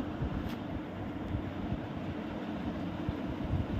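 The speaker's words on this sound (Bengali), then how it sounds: "ছাদে ভীষণ হাওয়া হচ্ছিল" Strong wind on a rooftop buffets the microphone with a low, continuous rumbling roar, gusting unevenly throughout with no voices.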